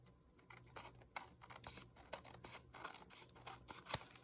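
Small scissors trim the bottom of a tiny junk journal notebook, giving a quick series of close, crisp paper snips and rustles with short pauses between cuts.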